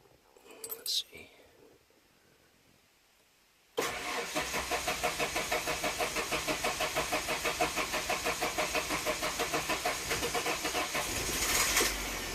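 A Ford Ranger Flare Side truck, its fuel filter just changed, sits quiet with a few faint clicks before the engine cranks and catches abruptly, then settles into a steady, close, rhythmically pulsing idle that lasts to the end.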